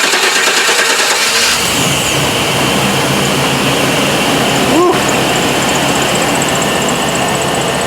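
A car engine runs steadily after a crank no-start fault is fixed, a loud continuous hum with a brief tonal chirp partway through and no speech.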